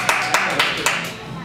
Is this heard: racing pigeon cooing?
no